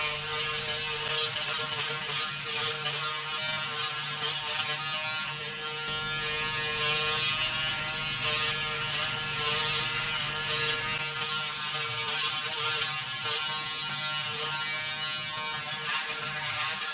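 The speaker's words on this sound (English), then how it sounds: "You can hear the slower mode, the standard mode, sorry, and this is the turbo mode" A Braun Series 5 electric shaver in turbo mode buzzes steadily at high speed while shaving a head, a continuous close whine with slight shifts in pitch as it works.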